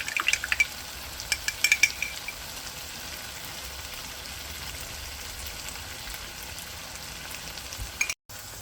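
Chicken with yogurt fries on a high flame for a Punjabi chicken gravy, giving a steady, close hiss and sizzle with a few stirring scrapes and clicks near the start. It stays even throughout, with no talking.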